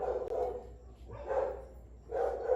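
A dog barks three times in spaced, fairly close bursts, each a short rough woof, with quiet gaps between and no speech.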